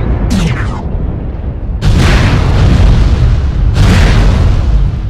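Missile explosions in a video game, three loud booming blasts with a deep rumbling tail, each strike heavy and close, the last two rolling into sustained roar.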